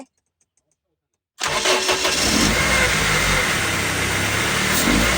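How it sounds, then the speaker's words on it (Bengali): Silence, then a CNG-converted Toyota HiAce minibus engine cranks and catches abruptly on a half-turn of the starter, settling into a loud, steady running rumble that continues to the end. "আপনারা দেখতেই পারলেন যে হাফ সেলফে ইঞ্জিনটি স্টার্ট হয়ে গেল"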